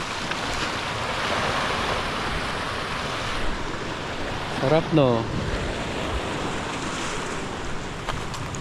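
Sea waves wash steadily in the open, with broad noise and some wind on the microphone, while voices talk and shout now and then over the surf.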